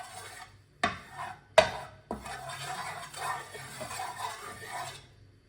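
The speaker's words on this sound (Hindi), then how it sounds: "एक चम्मच ऑयल डालेंगे। ऑयल को ना पैन के ऊपर फैला लेंगे।" A metal spoon scrapes and taps across a pan while spreading oil for methi paratha, giving a few sharp clinks followed by soft, steady rubbing strokes, quiet and close.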